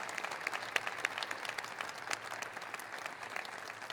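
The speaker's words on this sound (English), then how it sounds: "can I get a huge round of applause for the hard work it took for you to earn this spot here today?" Applause for inductees at a National Society of Collegiate Scholars induction ceremony, a room of many hands clapping steadily and fairly faintly for several seconds, with scattered sharper claps standing out.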